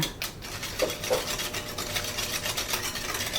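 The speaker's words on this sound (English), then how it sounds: "Now go in with 1 egg and some vanilla essence or extract and give that a mix." An egg and vanilla are mixed into cookie batter with steady scraping and rubbing strokes in a bowl, close and fairly quiet, with no talking.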